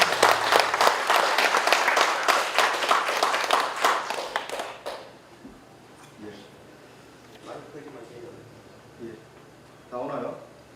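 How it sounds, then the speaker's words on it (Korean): Audience at a book launch clapping warmly for about five seconds, loud and dense, then fading into a quieter room with scattered voices and small sounds. "여러분 뜨거운 격려의 박수 부탁드립니다."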